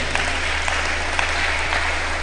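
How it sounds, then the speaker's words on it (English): Steady crowd applause, dense and even, many hands clapping together without a break for a couple of seconds. "I think they deserve a round of applause. Can we put our hands together for them?"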